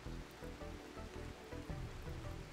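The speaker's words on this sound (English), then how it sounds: "I'm glad it's raining right now." Steady rain falls in the video game Rimworld, a soft continuous patter with a faint rhythmic pulse, quiet and unbroken throughout.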